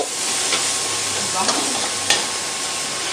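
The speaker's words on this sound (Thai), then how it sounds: "ผัดกะเพราไฟเมา" Thai basil stir-fry sizzling hard in a wok over a high, flaring flame, a steady loud frying hiss for the whole stretch with a few sharp spatula scrapes and clanks.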